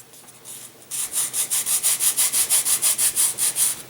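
Wood is sanded to a bevel on a rocket glider wing, with a quiet start and then a fast, even series of close, rhythmic rasping strokes.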